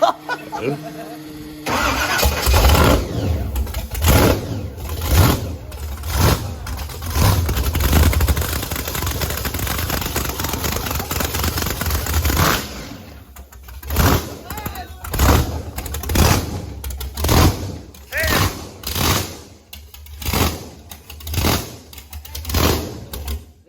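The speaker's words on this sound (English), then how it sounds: "We're like revving it up." A supercharged race car engine in a Blazer cranks and roars to life, holding a loud rumbling idle, then revs in a series of sharp throttle blips while people talk nearby.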